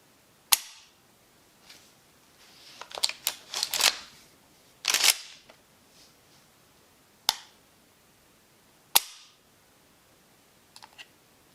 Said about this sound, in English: The trigger is smooth and crisp. Just hear it.